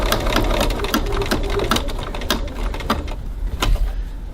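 Sewing machine stitching piping near a bag's hardware, running back and forth in a steady, rapid, loud mechanical chatter that continues without a break and with no talking.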